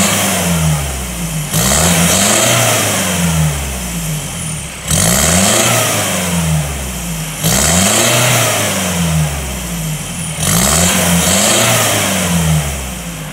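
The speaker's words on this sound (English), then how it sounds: "now we're going to give it the first fire up, see how it sounds. Should be much louder than stock." Mahindra Roxor fitted with a prototype larger-diameter, less restrictive exhaust, firing up and revving loud and close in repeated bursts that climb and fall back toward a rumbling idle.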